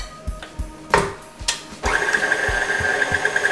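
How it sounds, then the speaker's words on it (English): An electric stand mixer blends ricotta and cream cheese: a few soft clicks and knocks, then the motor starts and settles into a steady whirring hum with a faint rhythmic ticking, close and fairly loud. "you're gonna blend it until it's very, very smooth. And it's easy if you have a mixer like this or a hand mixer"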